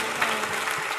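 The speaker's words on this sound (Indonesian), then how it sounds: "Beri tepuk tangan bagi Tuhan Yesus." Brief burst of congregational clapping during a church service, many hands applauding together at steady strength.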